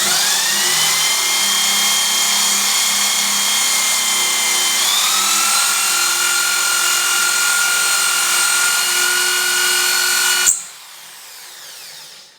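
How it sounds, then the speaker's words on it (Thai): A diamond hole saw grinds through ceramic tile with a loud, steady high-pitched whine that shifts pitch slightly midway and stops abruptly near the end, leaving a quieter hum. "เจาะกระเบื้องก็ค่อย ๆ นะครับใจเย็นๆครับ"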